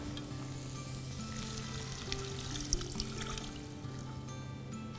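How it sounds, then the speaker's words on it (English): Vegetable stock poured into a pan of sautéed vegetables for a vegetable soup with dumplings, setting off a steady sizzle and frying hiss with soft trickling and a few stirring clinks, close and continuous throughout. "At this stage, I'm going to add in some vegetable stock to the pan."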